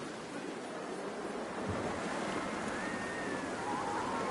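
Steady, broad wash of surging waves from deep, choppy water in Planet Coaster 2, continuous and fairly close, with a faint breezy hiss and no talking.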